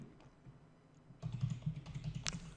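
Computer keyboard keys tapped in a quick, close run of clicks after a quiet start, with no talking.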